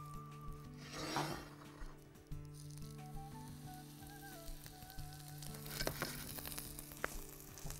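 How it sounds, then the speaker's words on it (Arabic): A chickpea flour steak frying in hot oil in a pan, a soft, quiet sizzle with occasional scraping and handling noises as the piece is moved around. "الصوت اللي بنحبه نسمعه مع اللحمة، بس هو الزيت هنا سخن، الطاسة سخنة."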